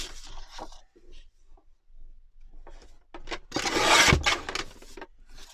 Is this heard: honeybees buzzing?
no